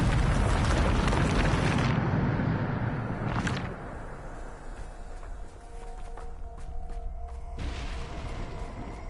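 Bombarda explosion spell in a Hogwarts wizarding video game, a loud roaring blast lasting about two seconds, then a second burst and rumbling debris fading into quieter clattering and a later whooshing swell.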